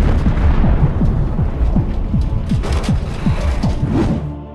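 A truck explodes in a dramatic sound effect, with a dense roaring blast and repeated booming thuds rolling through for several seconds before tailing off.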